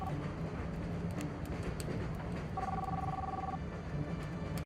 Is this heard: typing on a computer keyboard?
no